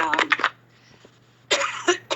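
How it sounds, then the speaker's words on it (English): A person coughs in short, sharp bursts, pauses briefly, then coughs again, close and fairly loud. "I have a little cough."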